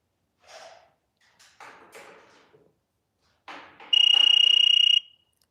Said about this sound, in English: It'll beep because it hits the low